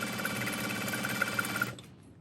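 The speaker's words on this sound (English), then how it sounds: "So I'm just folding it as I'm sewing" A sewing machine stitching and topstitching fabric for a crossbody bag strap, a steady close mechanical whir that runs continuously before stopping abruptly near the end.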